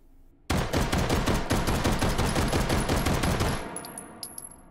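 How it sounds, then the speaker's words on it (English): A Gluger pistol fitted with a muzzle brake fires in rapid succession in the VR shooting game H3VR, a dense, loud burst of shots running for about three seconds before tailing off, with brass pinging afterward. "Let's try the Gluger with the muzzle brake."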